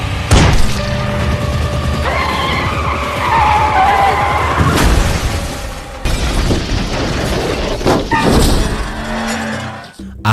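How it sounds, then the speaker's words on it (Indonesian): Cars in a thriller film chase skid and crash, with loud tire screeches, heavy impacts and shattering glass running continuously and close up, with no voices over them. "Akhirnya, kedua mobil itu pun mengalami kecelakaan."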